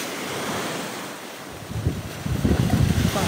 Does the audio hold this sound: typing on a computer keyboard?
no